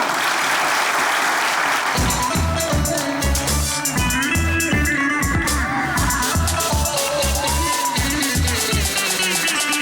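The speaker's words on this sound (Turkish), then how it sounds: "Alkışlarınızla." Audience applause at a Turkish comedy award ceremony, a dense, steady patter of many hands that carries on loudly as a band's music comes in beneath it after about two seconds.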